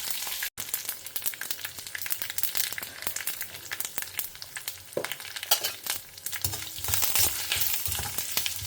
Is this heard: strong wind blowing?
no